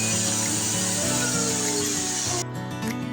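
A power drill boring into a fairly hard concrete wall while installing Korean blinds, a loud, steady grinding whine with a shifting pitch that drops abruptly near the end as the drilling eases off.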